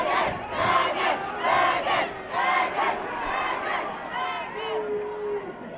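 Loud crowd noise at a December 2021 fight night, with shouting and cheering voices swelling in waves and staying dense throughout.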